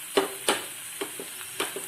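Pumpkin skin frying with reddish onions in a pan, a steady sizzle with several distinct stirring clatters spaced through it, close and alone with no talk.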